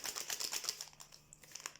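A baking powder sachet crinkles and rustles as it is handled, a quick run of soft, close crackles that are faint and stand alone without talk.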